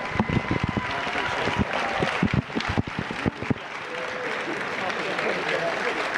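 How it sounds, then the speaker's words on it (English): Applause from a crowd at a bowling championship, with a burst of sharp individual claps early on that thins into a softer wash of clapping. "one more big applause for one of bowling's great ambassadors, Bill Lillard Sr., on this historic achievem"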